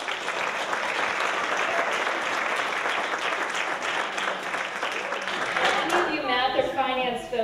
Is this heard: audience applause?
yes